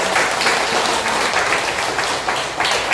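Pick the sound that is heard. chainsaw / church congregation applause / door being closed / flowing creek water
church congregation applause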